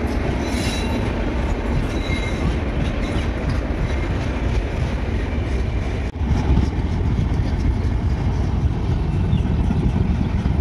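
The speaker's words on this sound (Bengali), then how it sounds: "হাওড়া টু দীঘা এক্সপ্রেস যাচ্ছে এখন" An express train on the Howrah to Digha route rumbles past close by, its steady heavy roar of wheels on rails filling the whole stretch with a faint squeal and clatter, no voices.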